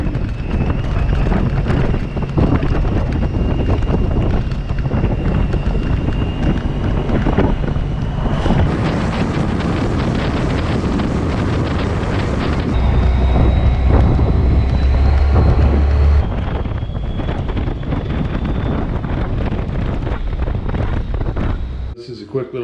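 Strong wind buffets the microphone on a motorcycle ride down a two-lane road, a steady loud roar and rumble throughout with engine noise beneath and brief gusty surges.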